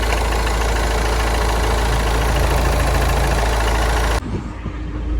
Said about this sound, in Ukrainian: Дуже м'якенько завівся двигун. Рівненько працює, крує, ніякого диму ніде немає.